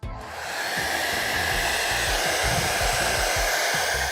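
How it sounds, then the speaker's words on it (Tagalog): A hair dryer-style blower used for drying makeup and wigs runs loud and close with a steady, continuous roar after a brief start-up. "for the blower that I use, if you're a drag queen, you use your blower a lot"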